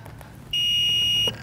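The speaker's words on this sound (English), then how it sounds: "You'll hear one beep when it turns on. You'll hear the fan kick on." A Lincoln Electric Viking 3250D FGS flip-front PAPR welding helmet powers on with one steady, high electronic beep lasting under a second, clear over a low background hum.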